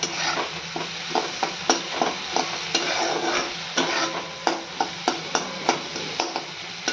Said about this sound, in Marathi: मसाला ही कांदा सोबत व्यवस्थित मिक्स करून घ्यायचा